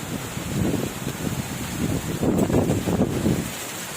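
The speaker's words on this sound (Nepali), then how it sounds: "हो, हुरी चल्यो, हुरी हुरी" Strong wind gusts roar steadily through a rain and hail storm, a continuous blustery rush with swelling surges near the middle, no talking.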